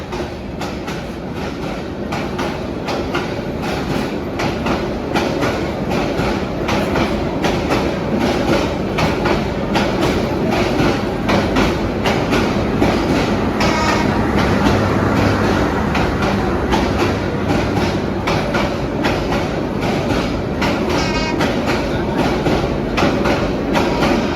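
Meter gauge train cars of Bangladesh Railways running past at close range, a continuous loud rumble with steady clickety-clack wheel beats and faint squeals throughout.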